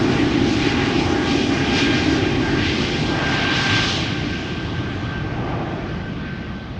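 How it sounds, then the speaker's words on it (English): Steady loud roar of a jet airliner's geared turbofan engine at Schiphol Airport, with a faint tonal hum and a higher whale-like whine rising over it, slowly easing off toward the end. "So that whale sound has to do with the geared turbofan engine design."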